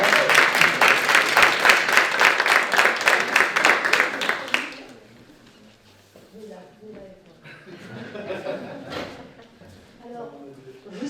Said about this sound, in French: Alors, il faut les applaudir,